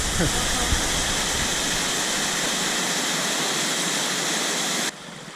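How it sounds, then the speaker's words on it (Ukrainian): A waterfall spills among stones near the Milk Stone cave at Velyka Uholka in Zakarpattia. Its steady, loud rushing roar fills the scene, then drops abruptly to a quieter hiss at the end. "Це ми якраз над водоспадом. Отут він починається поміж каміння."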